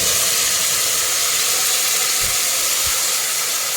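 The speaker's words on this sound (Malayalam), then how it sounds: "ഇനി ഇതിലേക്ക് നമ്മൾ നേരത്തെ അരച്ച് വെച്ച തക്കാളി പേസ്റ്റ് ഒഴിച്ച് കൊടുക്കണം കേട്ടോ" Tomato paste hits onions frying in a pan and sizzles with a loud, steady hiss that fills the whole stretch, with a couple of faint low bumps underneath and no talking.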